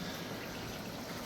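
Dehumidifier water trickling steadily into a small indoor creek, a faint continuous splashing and babbling with no pauses.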